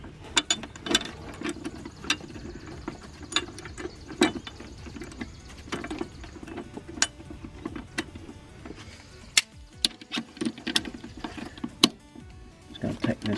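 A hand ratchet tightens the nut on a car's suspension top plate, giving irregular sharp clicks and short ratcheting bursts near the mic, with someone speaking between the strokes.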